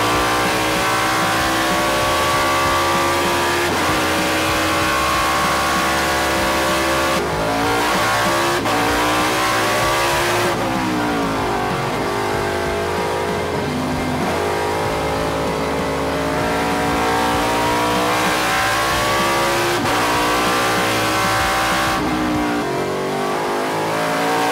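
A TransAm Series race car at Road America in 2021 roars loudly and continuously throughout, its engine revving up and dropping through repeated shifts, with brief tire squeal as it laps the circuit.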